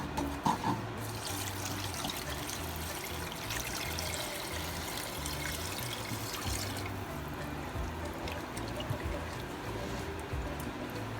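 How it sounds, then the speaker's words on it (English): Water pours steadily into a cooking pot with a continuous splashing gurgle, close and moderately loud, without talk. "Now I'm gonna add 1 liter of water in it."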